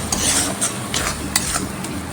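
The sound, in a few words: stirring and frying masala in pan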